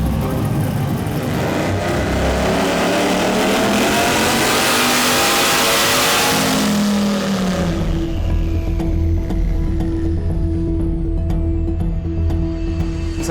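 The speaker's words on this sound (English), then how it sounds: "engine sounds healthy, so at least they got that going for them" A drag race car's engine on a budget build for a ten-thousand-dollar shootout, revving loudly and steadily up close, rising in pitch, then settling to a rough idle with mechanical clicking.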